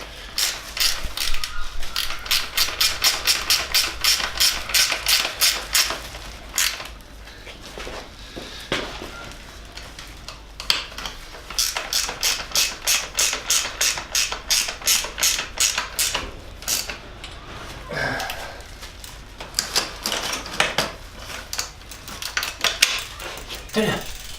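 Ratchet wrench tightening the wheel fittings on a mountain bike, a long run of quick, close clicking bursts in repeated strokes, loud and steady, with short pauses between sets.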